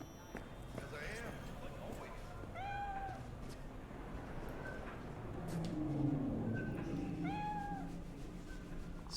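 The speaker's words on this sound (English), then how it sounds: "So, is that a Siamese cat or a Sphinx cat?" A cat in Cyberpunk 2077 gives several clear meows spread across the scene, set over a steady game ambience with background noise and faint rhythmic clopping.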